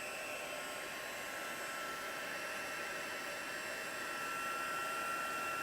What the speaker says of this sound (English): My heat gun, which I have right here.